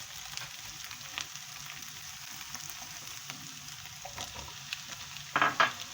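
Onions with small diced potatoes sizzle and fry steadily in a pan, a continuous crackling hiss with a brief louder burst near the end, no voices.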